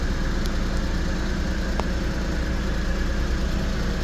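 A 1998 Mitsubishi MiniCab 4x4 dump truck engine idles steadily, a constant low rumble with no revving and no talk.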